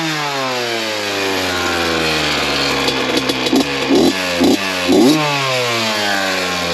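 Honda CR 82 two-stroke dirt bike revving hard close by, a steady high idle broken by several sharp throttle blips in quick succession, loud and alone.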